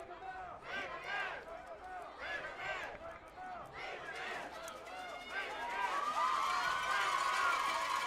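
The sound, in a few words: crowd at a baseball game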